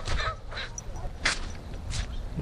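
Geese call with a few harsh honks spread out over a steady outdoor background at Deer Lake in Burnaby, fairly close.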